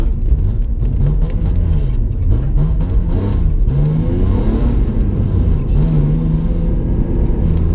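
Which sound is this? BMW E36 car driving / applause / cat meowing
BMW E36 car driving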